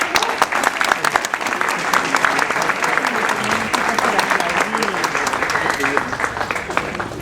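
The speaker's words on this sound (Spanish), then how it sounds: "Vamos a recibir ahora a nuestros invitados con fuertes aplausos." An audience at a book fair presentation applauds its arriving guests, a dense, continuous clapping close by, with voices talking faintly underneath.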